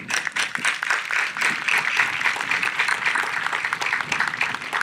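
Audience applause at a high school graduation ceremony, a dense, moderately loud patter of many hands clapping continuously at a steady level.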